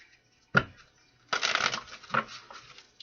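Tarot archetype cards being shuffled by hand: a short riffle snap, then a longer papery burst of flicking cards and a final quick shuffle, close and fairly quiet.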